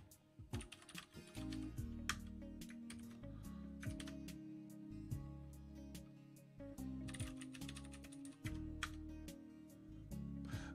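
Steady typing on a computer keyboard during a coding session, with dense clusters of key clacks and sharp taps over a continuous low hum, no voices.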